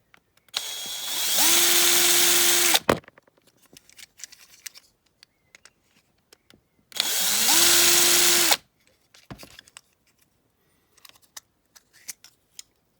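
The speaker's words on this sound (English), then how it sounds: "change drills and try and get them off now." A power drill bores into a Corgi Classics diecast model car in two sustained, loud whining bursts of about two seconds each, separated by clicks and handling noises up close.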